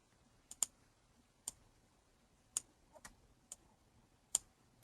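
Several sharp, isolated computer keyboard key presses, about seven clicks spaced irregularly over a quiet background, used while working in Make The Cut font design software.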